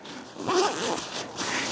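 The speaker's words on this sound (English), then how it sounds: "And if I open that zipper up," A YKK zipper hidden under a nylon flap on a Canadian Army surplus pack is pulled open, a close, raspy zip lasting around a second, followed by faint handling rustle.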